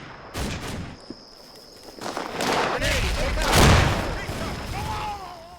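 Grenade volleys and gunfire in the World War II strategy game Combat Mission: Fortress Italy, booming explosions and rattling shots at close range, with someone speaking over the battle.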